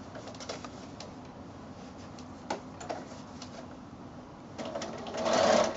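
A sewing machine stitches bias binding onto a scallop-edged quilt, giving a faint, quiet run of rapid mechanical ticking with a few sharper clicks and a brief louder burst at the end.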